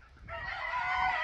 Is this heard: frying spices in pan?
no